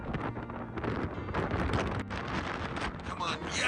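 Strong wind blowing at night on Prince Edward Island near a radio tower and buildings, a steady loud gusting roar buffeting the microphone throughout, with faint voices mixed in.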